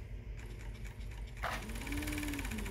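Coverstitch sewing machine fitted with an S124B collarette clean-finish binder stitching fleece, a steady fast mechanical whir that picks up and grows louder partway through, close and alone with no talking.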